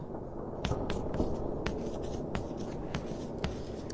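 Scratchy writing in the Evil Nun horror game, a run of light pen or chalk strokes repeating steadily over a low ambient background hum, with no one talking.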